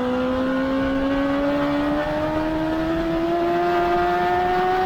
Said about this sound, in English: So that's why you really hear me revving it out there